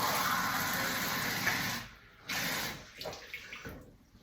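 Water pours into a rice cooker pot of uncooked rice, measured out in three cups. A steady close gush runs for about two seconds, then stops and is followed by a shorter burst and softer splashing dribbles.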